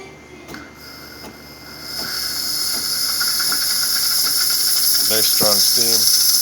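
Steam wand on a Saeco espresso machine blasts a strong, steady hiss that builds after a couple of soft clicks, with a gurgling sputter near the end.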